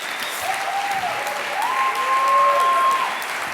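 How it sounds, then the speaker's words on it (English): Audience applause fills a stage event as a guest named Lorenzo is welcomed, a steady wash of many hands clapping with a faint tonal whistle gliding above it. "Please give Lorenzo a round of applause."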